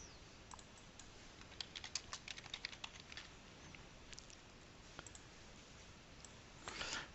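Rapid clicking of keys on a computer keyboard, quiet and close, in irregular bursts of typing with short pauses and no talking.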